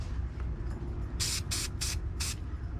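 Spray paint hisses from an aerosol can onto an AMT 1934 Ford pickup model kit part, coating it red: four short, close bursts at a steady rhythm over a low background hum.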